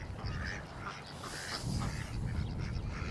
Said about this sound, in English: Hello, lovely ducks.